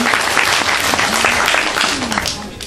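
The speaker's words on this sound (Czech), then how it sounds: "Takže já poprosím o potlesk" Audience at a Miss Krkonoše beauty pageant applauds steadily, a dense wash of clapping that holds level with a faint voice underneath and eases off at the end.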